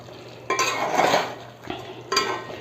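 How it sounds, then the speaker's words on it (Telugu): Dry chicken masala curry being stirred in a pan, a few scraping, clinking strokes of a utensil over faint frying in the background, close and moderately loud. "ఒక్కసారి మిక్స్ చేసుకుందాము"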